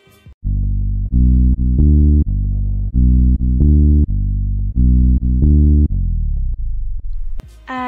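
Distorted synthesizer bass made in FL Studio Mobile, loud and buzzing, playing a rhythmic pattern of short repeated notes in groups, ending on a long note that slides downward in pitch, with no voices.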